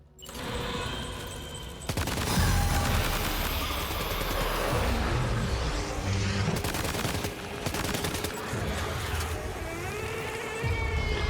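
Rapid bursts of gunfire and blasts from combat in the video game Death Stranding 2, loud and dense, with repeated volleys over a busy, rumbling game soundscape.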